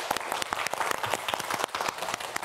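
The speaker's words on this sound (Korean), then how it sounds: "박수 한번 보내주세요." A studio audience on a TV science quiz show claps in a brisk burst of applause, close and lively, with no talking over it.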